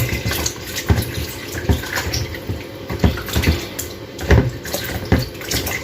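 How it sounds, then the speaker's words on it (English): Meat rinsed under running water from a tap while cooking white rice and stew, a continuous splashing stream broken by irregular clunks and spatters as the meat is handled, close up with no talking. "So this is me rinsing my meat again"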